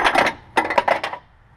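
A metal wrench slips and tumbles down into a Scion FR-S / Subaru BRZ engine bay during drive belt work, giving a quick burst of clinks, then a second run of several bright metallic clatters and rattles that fade out.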